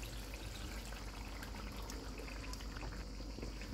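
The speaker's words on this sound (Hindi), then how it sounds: "इसमें फेंटा हुआ दही डालेंगे।" Whisked yogurt pours into a mutton karahi over a lowered flame, giving a soft, steady liquid splatter and faint bubbling, quiet and unbroken throughout.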